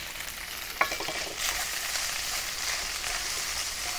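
Lamb with chili powder and cumin seeds is stir-fried in a wok, Xinjiang style, giving a continuous bright sizzle with a sharp clank early on and soft stirring scrapes beneath.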